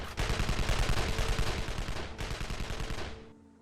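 Rapid bursts of rubber-bullet gunfire from the Evil Genius video game, a dense, loud automatic volley that runs almost continuously, breaks briefly, resumes, then stops with a short fading tail.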